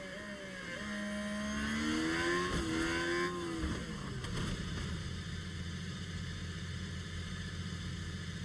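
Race car engines in F1 Manager 24 rev and whine together at a red flag restart in Brazil, pitching upward as the field launches, then settling into a loud, sustained roar of cars pulling away.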